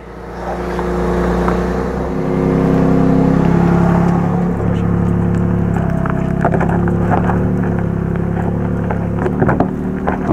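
A 2022 Toyota Tundra TRD Pro engine pulls steadily through off-road terrain, a loud, continuous low drone with rising surges and some rattles and wind buffeting, with no voices.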